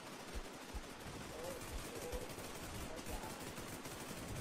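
Rapid bursts of gunfire from a shooter video game with sniper play, crackling steadily and fairly loud throughout, mixed with game ambience while players talk over it.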